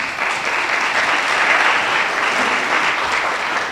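Loud, steady applause from a school strings concert audience honoring the assistant principal, dense uniform clapping that holds throughout.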